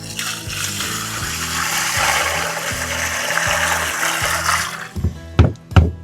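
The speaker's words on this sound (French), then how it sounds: "toute cette eau dégueulasse, elle va aller dans mon palmier" Dirty aquarium water from a matamata turtle tank is poured into a palm plant pot, a loud, continuous close splashing gush that stops abruptly and is followed by a few drips and knocks.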